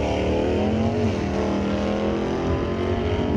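A 1967 Chevy Camaro drag car, G stock automatic with a 327 engine, roars loudly and steadily at the drag strip, a dense sustained engine drone with harmonic whine and no pause throughout.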